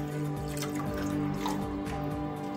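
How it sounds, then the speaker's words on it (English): Water pouring and splashing into a cooking pot for yam porridge, a continuous close liquid stream with dripping, heard alone. "I am going to be adding water inside the pot."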